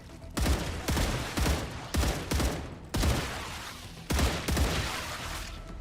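Rifle gunfire in a shooter video game, a weapon fitted with a 3x scope, fires in several loud, close bursts of rapid shots separated by short pauses.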